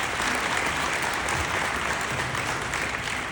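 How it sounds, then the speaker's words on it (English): A conference audience gives a judge a warm round of applause, a dense, even wash of many hands clapping that holds steady throughout with no voices above it. "let's give Judge Bagnaris a nice, warm round of applause"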